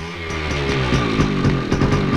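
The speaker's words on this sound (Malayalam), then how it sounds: "ബൈക്ക്." Motorcycle engine running close by, a loud continuous buzzing drone with rhythmic throttle pulses, no talk over it.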